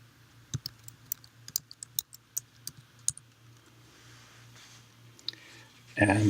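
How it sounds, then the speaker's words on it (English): A password goes in on a computer keyboard, a string of about a dozen crisp, separate key clicks at an uneven pace, then a few more after a pause, over a faint steady hum. "So I'm typing in now my sudo password."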